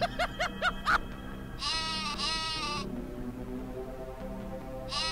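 Cartoonish sheep bleats from the walking sheep weapon in Worms Armageddon, a quick series of four or five short close bleats followed by longer drawn-out baas, set against game music.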